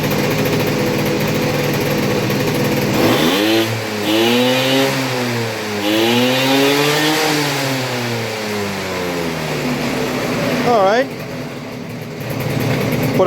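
A Honda SH50 City Express scooter's small two-stroke engine, running on premixed fuel with new reeds fitted, idles and revs in rising and falling sweeps near the microphone, with a person talking over it.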